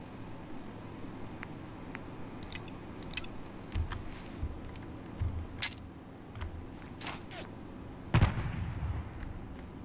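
Artillery firing in Fallout 4, with scattered muffled booms and sharp cracks at irregular intervals and a stronger blast near the end, sounding somewhat distant and fairly quiet over a low background rumble.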